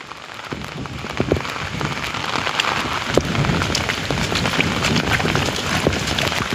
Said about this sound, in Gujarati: વરસાદ પડ્યો છે ને 2 દિવસથી ચાલુ છે।